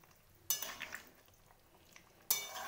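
Paneer is stirred into a potato and cauliflower sesame-spice curry in a pan, giving two short, scraping clatters of a spoon against the pan, close by and separated by a quiet pause.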